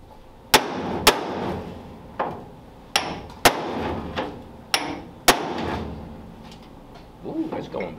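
A hammer strikes the smashed metal trunk of a 1933 Ford Coupe, about eight sharp, ringing metallic blows at irregular intervals, close and loud, with quiet talk between them.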